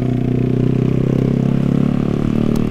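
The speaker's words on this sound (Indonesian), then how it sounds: "ketemu motor yang pakai knalpot brong kayak gini" A motorcycle with a loud aftermarket exhaust idles up close with a throaty, pulsing exhaust rumble that stays steady and heavy for the whole moment.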